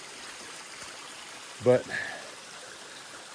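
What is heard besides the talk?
stream flowing beside the Appalachian Trail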